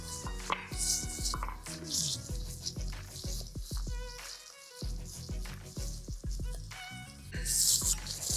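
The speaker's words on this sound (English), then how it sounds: "And I'm going to just chop up some chives." Fresh chives chopped with a knife for a garlic aioli, a steady run of close, crisp blade taps on a cutting board, lasting throughout with a brief pause midway, over soft background music.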